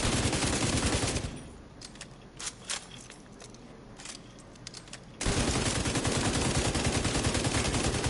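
LMG fire in The Division 2 with a Pestilence build, loud sustained bursts of rapid automatic gunfire, a pause filled with scattered shots and clicks, then another long continuous burst, close and dominant.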